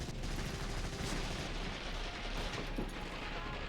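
Dense, continuous gunfire and battle din from the World War II shooter Medal of Honor: European Assault, loud and rumbling throughout with no clear gaps and no voices.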